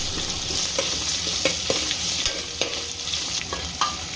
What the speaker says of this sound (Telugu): ఉప్పు వేసుకుని ఒకసారి కలుపుకుందాం.